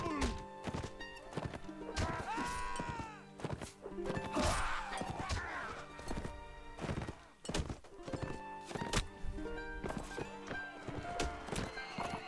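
Horse hooves clip-clopping and a horse whinnying in a medieval battle video game, repeated hoof clatter and neighs mixed with clashing combat thuds, with someone talking over the action.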